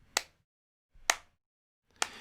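Three crisp electronic clap hits from a drum sample soloed in Ableton Live, spaced roughly a second apart, each a bright, snappy burst with a short decay and near silence between them.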